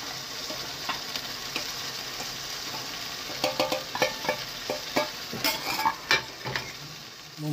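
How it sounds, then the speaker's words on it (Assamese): Ground whole garam masala with turmeric and salt frying in hot oil, a steady soft sizzle with a few sharper stirring scrapes and pops toward the end, close by. "মোৰ মছলাখিনি অলমষ্ট ভাজি আছে, ভাজি অলপ তেল বিৰিঙিবলৈ লৈছে"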